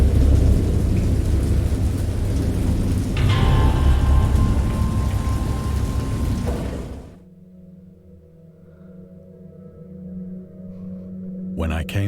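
A heavy thunderstorm from the Dagon video game, with dense, loud rain and rolling thunder for about seven seconds before cutting out, leaving a quiet low drone and a faint crackle near the end.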